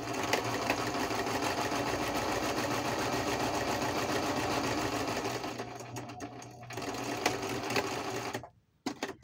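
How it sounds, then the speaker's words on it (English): A sewing machine stitches packing paper in a fast, steady mechanical whir, close and continuous, then slows, pauses briefly and stops near the end. "give me 1 second while I sew"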